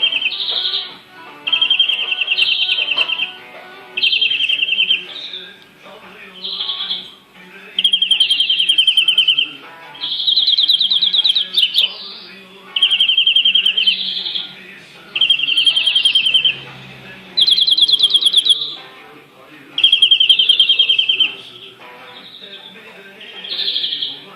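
A chaffinch sings loud, close, repeated phrases at a song contest in Sarıyer, each a bright trill ending in a flourish, separated by short pauses, with soft murmuring in the background.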